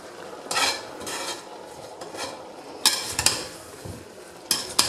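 A utensil scraping and clinking against a pot while Uzbek plov is stirred, in irregular strokes over a soft background sizzle.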